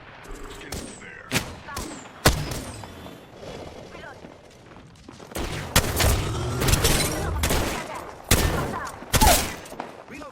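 Rapid bursts of gunfire from Apex Legends, mixing shotgun and sniper shots, crack out in quick clusters with heavier thumps and booms, loud and close, while occasional in-game voice lines sound underneath.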